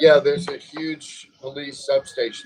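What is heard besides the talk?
No everyday noises stand out.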